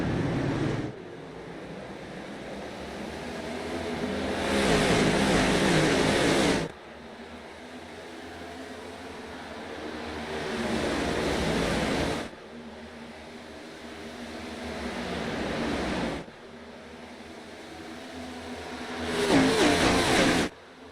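Race cars in a National Outlaw Racing Association event at Texas Motor Speedway, running under green flag, roar past in repeated loud surges every few seconds, each pass swelling and cutting off sharply over a steady background engine drone.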